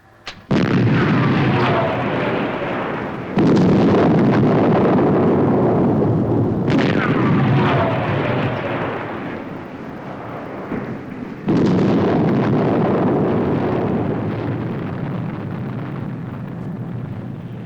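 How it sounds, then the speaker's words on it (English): Nutomic charges blast through rock on a road-building survey line in a Thunderbirds episode. Several heavy, rumbling explosions land one after another, each a loud sudden boom that rolls on into a long roar. "Okay, Chang. Fire the remaining 2."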